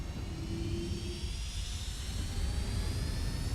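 Steady roar of Boeing 757 jet engines spooling at takeoff thrust in the X-Plane 11 flight simulator, a continuous broad rumble with a high whine on top, loud and close with no talking.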